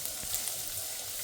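Garlic and onion sautéing in a pan, a steady close sizzle and crackle of frying with no voices over it.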